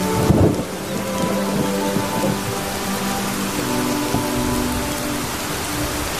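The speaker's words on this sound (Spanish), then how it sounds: "La lluvia ha parado un poco." Steady heavy rain pours down while low thunder rumbles through, with a louder crack near the start, continuous and close.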